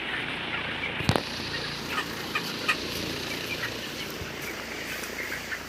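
Broiler chickens, 26 days old, fill a poultry farm shed with a low, constant flock murmur, broken by a few sharper clucks and squawks nearby.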